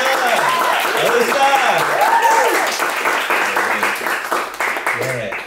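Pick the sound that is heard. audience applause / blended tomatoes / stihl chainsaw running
audience applause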